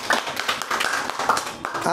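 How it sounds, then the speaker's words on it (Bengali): An audience claps together at a literary and cultural gathering, a dense, steady patter of many hands lasting a couple of seconds at moderate loudness. "এটার জন্য আসলে সবাই আমরা একটু জোরে একটা হাততালি দিতে পারি"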